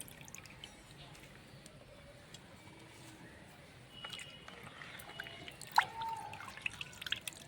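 Water drains and drips from freshly washed mint leaves into a mixer jar, with faint trickling and soft, scattered drips and clinks growing slightly louder toward the end.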